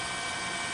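News helicopter flying over northern Miyagi Prefecture during tsunami coverage, a steady broadband rotor and engine roar, close and continuous for the brief moment with no voices.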